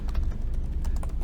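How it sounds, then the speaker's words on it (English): Someone types on a computer keyboard while entering Python code, keys clicking in a quick, slightly irregular patter over a steady low hum, close and with no voices. "struggling with the typing today"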